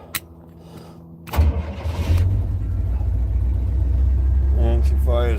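Diesel engine firing back up after running out of fuel: a few clicks and a short crank, then a sudden catch into a loud, steady low rumbling idle, close by, with a voice speaking briefly near the end.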